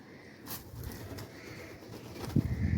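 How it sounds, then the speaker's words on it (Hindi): A black pigeon coos nearby, a soft low murmuring call rising toward the end over faint background ambience. "दोस्तों, काले रंग का कबूतर है ये।"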